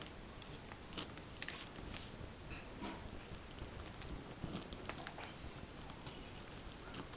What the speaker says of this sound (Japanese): いつも割れてるからね、切るの初めてよね。